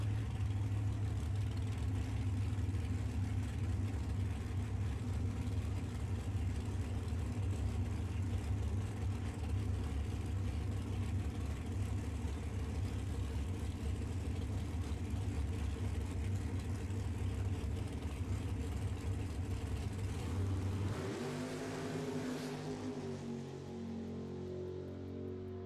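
A dragster makes a bye run in the left-hand lane at a drag strip, a steady loud engine drone that cuts off sharply near the end to a lower, fading tone; no talking.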